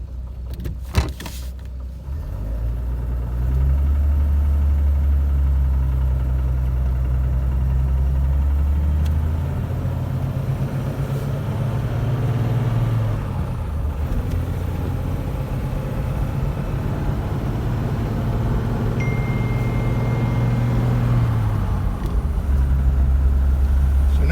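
Low engine drone of a 1946 Dodge with Fluid Drive semi-automatic transmission cruising in high gear, a steady rumble heard from inside the car with a subtle pitch shift midway and no talk.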